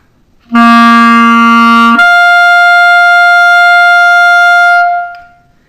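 A sustained clarinet tone that jumps to a higher register partway through, held steady for several seconds before cutting off, loud and clear with no talk.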